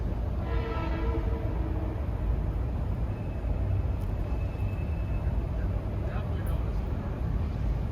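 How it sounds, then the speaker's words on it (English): A Metro-North commuter train from Croton-Harmon approaches a station with a steady low rumble and a brief horn-like tone early on, while someone talks over it. "This train coming close is from Croton-Harmon."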